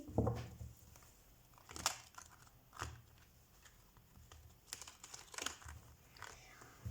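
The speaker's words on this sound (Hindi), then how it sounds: "तो सबसे पहले हम कार्ड शफल कर लेते हैं आपके लिए वर्गो।" Tarot cards being shuffled make soft papery riffles and crinkly flicks in scattered bursts, close and quiet, with someone speaking at times.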